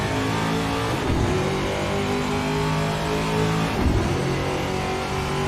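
A VRC TA2 race car in Assetto Corsa laps Watkins Glen, its engine droning loud and steady with repeated revving swells and gear changes, close and continuous with no talk.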